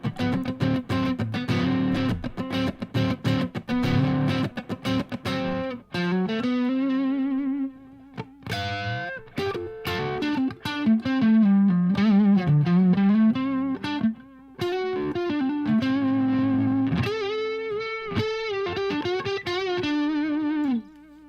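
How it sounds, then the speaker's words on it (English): Electric guitar through a distortion effect playing fast runs of hammer-ons, pull-offs and bends, a loud lead line with brief pauses that continues for about twenty seconds without talking. "can you hear the guitar perfectly when I play right here?"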